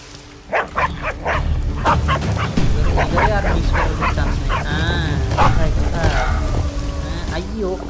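Dog barking in the Free Fire video game, rapid yips, whines and barks that come up close and loud, heard under a person talking over the gameplay.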